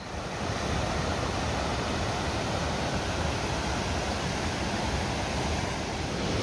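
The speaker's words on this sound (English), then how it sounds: "We have a super impressive waterfall here, and I hope you can hear me over it because it's quite loud." A loud waterfall in the Vindelfjällen mountains roars as a dense, unbroken rush of falling water, close and steady from start to finish, with no voices.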